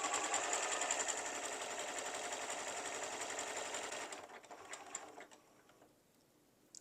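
A sewing machine runs slowly and steadily, stitching a quilt, with a close, continuous mechanical whir. After about four seconds it slows and stops, leaving a few faint clicks.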